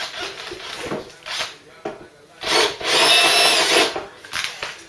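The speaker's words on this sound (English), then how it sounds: "it's a drilling operation." A power drill bores out the metal mounting brackets on a 1970s Ford Cortina Mk3 under restoration, in several loud whirring bursts with short pauses, the longest run near the end, heard close with no talk.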